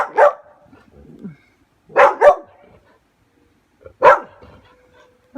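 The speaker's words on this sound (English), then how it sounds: "What are you barking at?" A dog barks in short, sharp bursts: a single bark, a quick double bark, then another single bark, close and loud with quiet gaps between, in a home where a parrot is kept.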